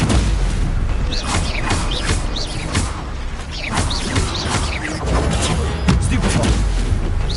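Spell-casting effects from the video game Hogwarts Legacy, with dense, continuous magical blasts, booms and whooshes layered over combat noise and a voice calling out.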